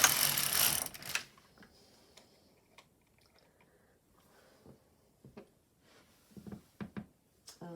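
LK150 knitting machine carriage sliding across a row, a brief loud mechanical rush followed by scattered soft clicks and ticks of needles and levers, close and quiet otherwise.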